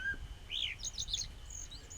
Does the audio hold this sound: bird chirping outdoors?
yes